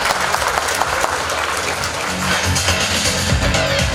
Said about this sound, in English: Let the annual day celebrations begin with the hearts full of claps and appreciation.